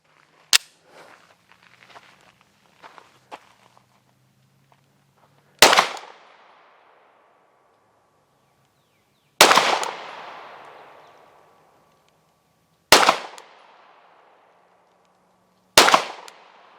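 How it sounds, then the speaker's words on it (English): A Canik TP9sa pistol fires five sharp, loud shots at a range, each a single crack with a ringing decay, spaced several seconds apart, with faint handling noises before the first shot. "let's head over to the range and get some footage of me shooting this"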